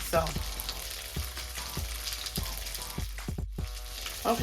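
Pork chops fry in a pan with a dense, steady sizzle and crackle, close up, with occasional soft knocks against the pan.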